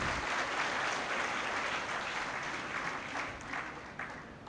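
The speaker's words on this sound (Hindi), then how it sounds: "एक बार ताली बजा दीजिए" An audience at a 60th birthday celebration for a Brahma Kumaris spiritual leader in Lucknow bursts into full, dense clapping that holds for a few seconds and then gradually thins and fades.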